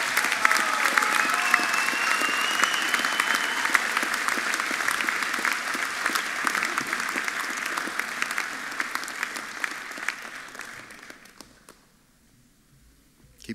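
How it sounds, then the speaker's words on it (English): Sustained applause from a university graduation ceremony audience, a dense steady clatter of many hands that holds for about ten seconds, then thins out and fades to near silence at the end. "Keep clapping, got to get all the way across there."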